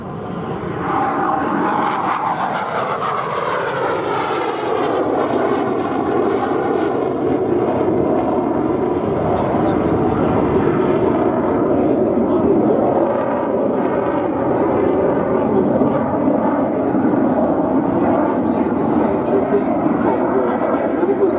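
A Hawker Hunter T7 jet flies a display at Duxford airshow, its engine roar swelling and sweeping past loud and sustained, with a commentator speaking over the noise.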